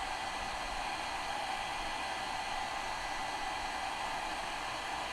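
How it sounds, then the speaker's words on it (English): A hair dryer blows steadily and evenly at close range, drying a glass block craft; the broadband whoosh stays constant throughout with no pauses. "we're going to have to blow dry this good"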